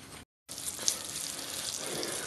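Touton dough sizzles in a hot pan, a steady close hiss of frying that carries on after a brief silent gap at the start.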